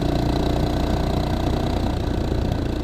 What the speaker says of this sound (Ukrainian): Їде без газу. Тобто тяговитий мотор.